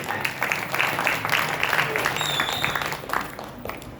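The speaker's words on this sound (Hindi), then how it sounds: "एक बार तालियां बहन को भी बजाओ" Audience applause at a Hindu religious discourse gathering, a dense wash of many hands clapping continuously for about four seconds, fairly loud and steady with slight swells, no talk over it.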